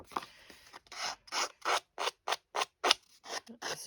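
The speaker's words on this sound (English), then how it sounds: "I actually did the scissor distressing where you just rub like this with your scissors" Scissor blades scraped repeatedly along a paper edge to distress it for a stamped card project, giving about a dozen quick, rhythmic rasping strokes, close and with no talking.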